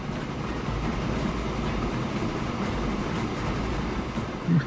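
A train runs in the railway-building game Train Fever, a steady low rumble and rolling hum that holds at an even level throughout, with a slight swell right at the end.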